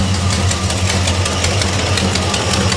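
A 1969 Chevelle SS V8 runs steadily at a loud, close idle with a rough, knocking throb and no talk over it.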